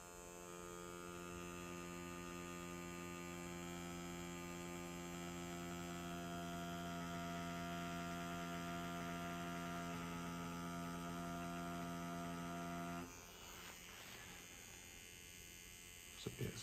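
A Mast Archer Ultra tattoo machine with a 4.5 mm stroke runs with a steady, even electric buzz and hum, close and constant for about thirteen seconds before it stops, leaving faint room noise and a couple of small clicks.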